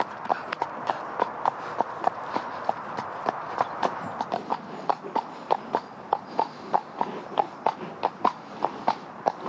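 Steady clip-clop of a ridden horse's hooves walking in winter, evenly spaced crisp strikes repeating throughout, close and alone without talk.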